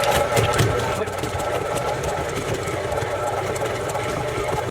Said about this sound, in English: they like to just crush them with the mixer